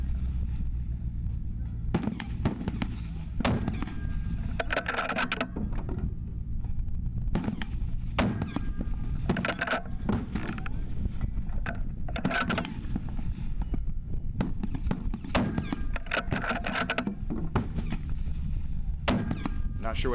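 Rifle shots crack out one after another at a positional shooting competition, sharp reports separated by irregular pauses and followed by brief echoes, with faint voices in the background.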